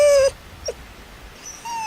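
Excited dog whining in a car, a high tonal whine at the start, a brief yelp in the middle and another thin whine rising again at the end, fairly close.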